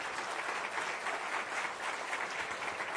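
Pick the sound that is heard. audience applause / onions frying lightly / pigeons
audience applause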